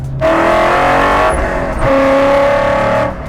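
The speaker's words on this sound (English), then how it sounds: "You probably heard this motor really wake up, and you heard me let the revs build a little bit." A 1967 Shelby GT500 engine revs up loudly, holding a steady roar, dipping briefly, then climbing again before cutting off.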